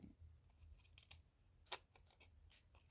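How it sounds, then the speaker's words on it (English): Fancy pattern-edged craft scissors snip through cardstock in a quiet room, a series of soft crunching cuts with a sharper click near the middle, no voices. "Remember to stop with your fancy scissors before you get to the end, or it's going to do a funny hard cut"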